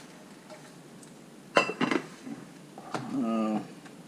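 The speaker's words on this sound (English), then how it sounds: "So eggs number 1 going to the ice water." A boiled egg lowered into a bowl of ice water, giving a couple of sharp clinks and a short clatter of ice against the bowl, followed by a brief scrape, close and fairly clear.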